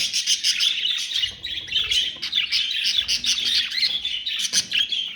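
Budgerigars, a breeding pair with their first-clutch young, chirp and chatter busily and continuously up close, in a dense stream of overlapping tweets with no talking.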